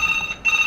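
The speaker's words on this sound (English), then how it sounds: "Sorry for that phone call." An incoming call makes a phone ring in a brief electronic trill, a short clear burst with a small gap, with no one talking.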